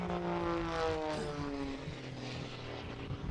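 An aerobatic propeller airplane drones overhead at an air show, its engine pitch rising and falling as it maneuvers and pulls vertical, moderately distant and steady.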